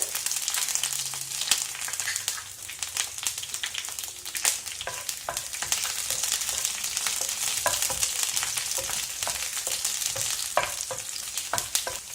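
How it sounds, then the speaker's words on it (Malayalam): Green chillies fry in an oiled pan for a vegetable kuruma, giving a steady bright sizzle with small pops and occasional stirring scrapes, close and continuous throughout. "ഇതിലേക്ക് നമുക്ക് പച്ചമുളക് ചേർക്കാം."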